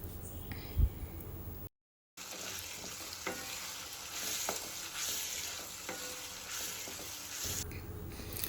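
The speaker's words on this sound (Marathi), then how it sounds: "टॅमॅटो मऊ होईपर्यंत तेलामध्ये शिजवून द्यायचं आहे" Chopped onion and tomatoes cook in oil for a prawn masala, giving a steady soft sizzle with occasional stirring clicks, fairly quiet and close, after a brief knock and a short gap of silence at the start.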